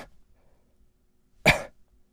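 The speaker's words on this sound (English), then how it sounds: "Now simply cough." One sharp, close cough, demonstrated during a breath-support exercise in a singing lesson, standing alone against near silence.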